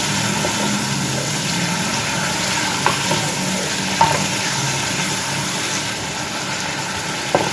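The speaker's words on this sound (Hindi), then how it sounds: "बस इसको 2 मिनट भूनेंगे कि इसका कलर चेंज हो जाए।" Washed chicken pieces frying in a pan for chickpea nahari, a constant dense sizzle with a few faint spoon clinks as it is stirred, steady and close.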